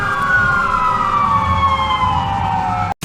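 A cartoon fire engine's siren wails loud and steady in a long, slowly falling tone, then cuts off abruptly near the end.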